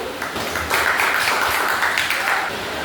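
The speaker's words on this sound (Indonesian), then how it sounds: "Berikan aplaus juga untuk satu." Audience applause for group one at a church-setting teacher-training session, a sustained wash of clapping from a room of people that swells briefly then settles.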